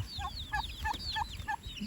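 Turkey gobbling in a rural Thai village yard, a fowl call of about five rapid warbling bursts repeating at a steady rhythm, moderately close, with no talk over it.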